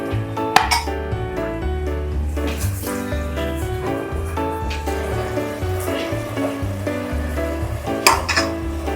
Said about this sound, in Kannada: ನೋಡಿ, ಮಸಾಲೆ ಎಲ್ಲ ಕುದೀತಾ ಇದೆ.